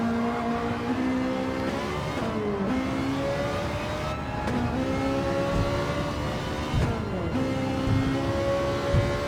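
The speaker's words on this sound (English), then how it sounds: "Rick's pulling away in that Lamborghini" A Lamborghini race car engine in a racing game, whining steadily at high revs with repeated upshifts and downshifts, the pitch climbing and dropping in a steady, close, continuous drone.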